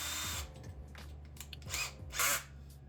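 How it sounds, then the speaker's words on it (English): Power drill whirring close by in short bursts, drilling holes in a cigar box bass guitar neck, its motor starting and stopping several times with brief pauses between. "we're gonna drill the holes out"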